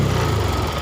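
A fuel-injected Honda Vario motorcycle engine held at full throttle, a steady loud buzzing drone with an erratic, sputtering edge from a faulty throttle position sensor, close by and uninterrupted.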